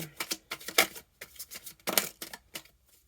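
Tarot cards are shuffled up close in several quick, crisp bursts of riffling and slapping, separated by short silent gaps.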